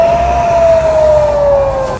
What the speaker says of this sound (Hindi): इस दौरान गाजा में लगातार सायरन बजता रहा।